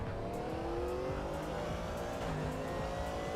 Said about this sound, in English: Engine sounds like I've run out of fuel.